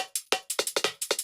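Drum pattern run through a vocoder, with about ten clipped, evenly spaced hits that each start loud and cut off abruptly, giving a choppy, gated feel with no voices.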